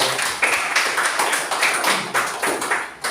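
Classroom students applaud their classmates together, a lively patter of hand claps with rhythmic bursts that swell and ease over a few seconds, close and fairly loud.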